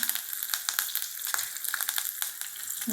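Curry leaves drop into hot oil and give a bright, crackling sizzle with scattered pops, close and continuous throughout, with no voices.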